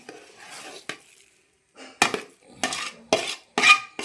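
A utensil stirs potato masala in a pan, sounding as a few separate scraping and knocking strokes with short pauses between them, close and fairly loud, with no one speaking.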